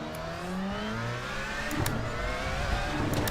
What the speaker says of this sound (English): Listen to that V4 engine in the rear, 2-liter V4 engine, twin turbo.